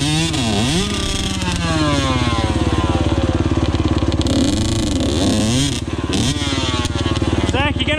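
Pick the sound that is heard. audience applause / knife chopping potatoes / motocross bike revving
motocross bike revving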